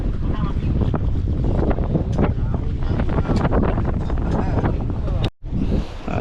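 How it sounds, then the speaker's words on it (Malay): A north wind at sea buffets a small fishing boat with a constant loud roar and gusting microphone noise, broken by a brief dropout near the end. "Angin utara kan, angin utara."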